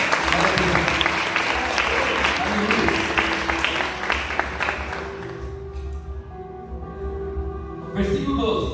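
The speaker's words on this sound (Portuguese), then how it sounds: "Dê uma salva de palmas para Jesus." A church congregation gives a round of applause for Jesus, loud steady clapping that tapers off after about five seconds, leaving quieter background tones and a brief swell of sound at the end.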